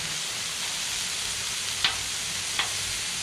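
Smashed burger patties sizzling on a hot Blackstone griddle, a steady close frying hiss throughout with two brief sharp scrapes of a metal spatula near the end, no talking.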